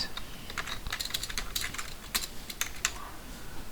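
Rapid key presses on a computer keyboard while entering bank transaction data into an Excel spreadsheet, a close, steady run of light clicks with no talking.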